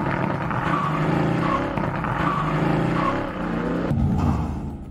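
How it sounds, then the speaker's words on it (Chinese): A Mercedes-AMG GT S and a BMW M5 with a 4.4-litre V8 launch in a 0–400 m drag race, a loud sustained engine roar rising in pitch through gear changes. "下面我们来看一下两台车的0到400米加速"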